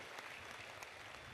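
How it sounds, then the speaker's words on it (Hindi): An audience under a large pandal at a spiritual gathering claps for a six-year-old girl, giving dense, steady applause throughout. "जोरदार ताली बजाओ इस बच्ची की भाषा से।"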